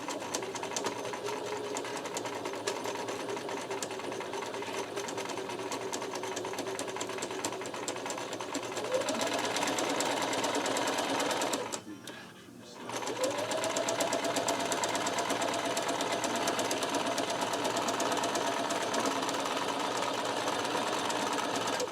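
A sewing machine stitches fabric for a mermaid skirt, a steady close mechanical whirring that runs continuously, stops briefly midway, then resumes at a slightly higher pitch.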